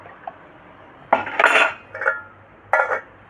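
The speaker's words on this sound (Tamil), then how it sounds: "ஒரு கடாய் எடுத்துக்கிறேனுங்க கொஞ்சம் எண்ணெய் சேர்த்துக்கிறலாம்" A metal kadai is picked up and set down on a stove for cooking crab gravy, giving a few sharp clanks and scraping clatters in short bursts over a quiet background.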